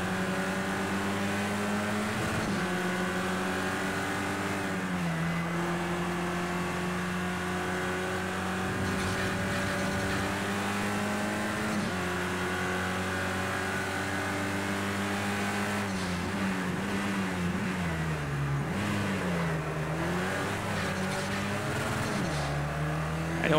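A race car engine in Project CARS 2 drones continuously, its pitch rising through the gears, then dropping sharply and climbing again around a hairpin, loud and close throughout.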